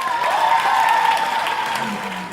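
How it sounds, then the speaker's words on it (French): Loud, sustained clapping from the audience at the 2016 Prix Chronos book prize ceremony in France as an author is called forward, with a steady tone and some crowd voices underneath. "Je vous demande d'applaudir l'auteur du livre Toute seule dans la nuit, Sandrine Beau."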